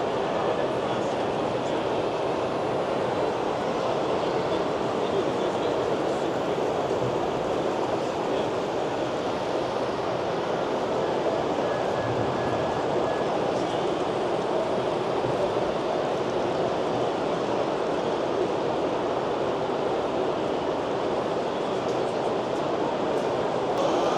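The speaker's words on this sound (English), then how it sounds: "Comes the coal train again." A model coal train runs steadily on a G-scale garden railway layout at a model train fair. Its rumble is continuous and moderately loud, mixed with the hubbub of a busy hall.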